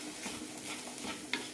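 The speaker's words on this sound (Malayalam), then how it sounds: "ലോ ടു മീഡിയം ഫ്ലെയിം മാറി മാറി ഇട്ടിട്ട് വേണം വറുത്തെടുക്കാൻ." Soaked green gram and rice roast in a pan over low to medium flame, giving a faint, soft sizzle with quiet stirring scrapes and one sharp utensil click near the end.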